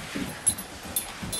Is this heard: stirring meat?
no